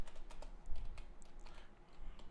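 Rapid computer keyboard typing, close and fairly quiet, with crisp individual keystrokes in an uneven stream over a low background hum.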